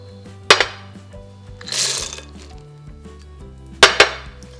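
Nuts clatter into a bowl in two sharp bursts a few seconds apart, with a softer rattling pour between them against a faint background hum.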